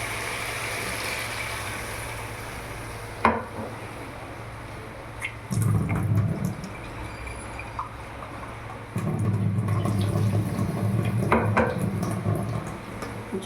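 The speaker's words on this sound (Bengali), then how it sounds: "এবার আমি জল দিয়ে দেবো।" Water is poured into a fried spice paste for a bata macher jhal fish curry, two rushing, gurgling bursts over a low kitchen background, with a single sharp clink of a utensil before them.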